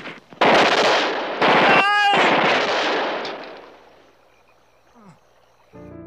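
Bursts of gunfire from a Vietnam War film battle scene, loud close volleys in dense clusters, then a brief tonal ring and fading quiet with a faint later shot.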